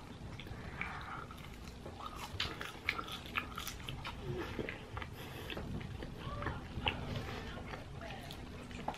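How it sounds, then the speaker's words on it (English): Someone eating sriracha fries, quiet chewing and biting close by over a low background hum, with occasional soft clicks and no clear talking. "These fries are good. I can tell they use sriracha."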